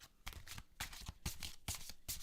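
A deck of reading cards being shuffled by hand, with several quick riffling bursts that come in a steady rhythm, close and moderately loud, and no talking.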